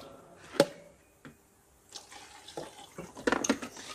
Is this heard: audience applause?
no